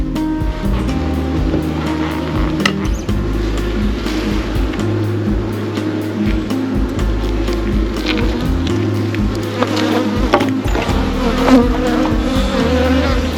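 Honeybees buzz loudly and continuously from an opened hive during an inspection of a new colony, a dense close drone with occasional nearer passes and faint handling bumps, and no voices.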